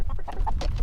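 Chickens cluck in short bursts while being fed fish, a brief close flurry of soft fowl calls over low background rumble.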